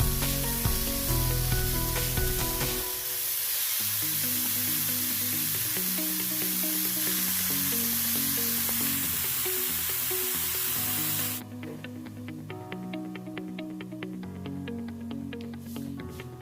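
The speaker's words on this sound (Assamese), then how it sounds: "ভালদৰে আলুখিনি ভাজি ল'ম" A loud frying sizzle of potatoes and spinach in a pan hisses beneath steady background music, then the hiss drops away and the music carries on alone.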